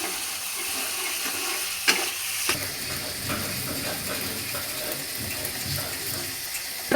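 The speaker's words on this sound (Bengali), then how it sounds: "এর ভিতরে আমি টক দইটা একটু ফেটিয়ে নিচ্ছি" Sour yogurt is whisked briskly in a bowl for a Bengali prawn malai curry. A fast, continuous scraping and clicking churns up close, with no voices.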